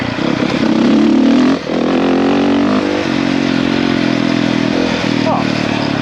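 A dirt bike engine runs loud and close after a bump start, a rough steady drone that dips briefly before settling back into an even, rattly idle.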